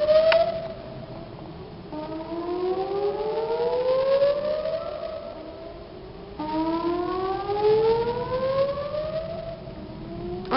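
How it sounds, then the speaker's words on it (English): A Dallas-area tornado siren sounds during its monthly test, a loud outdoor civil-defense wail that rises and falls in a repeating pulsing pattern, carrying over a wide area with no voices present. "every month they test the sirens to make sure they work"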